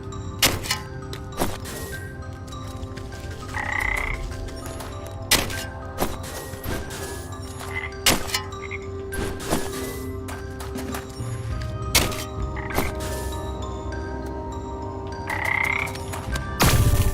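Frogs croak a few times down a well in the game Wytchwood, the short throaty calls spaced out among repeated dull thunks and footstep-like knocks over a low, steady ambience.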